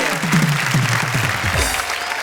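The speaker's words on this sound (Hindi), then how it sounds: "तालियां बजाइए" Loud, dense audience applause at a Hindi comedy show, many hands clapping steadily throughout without a break.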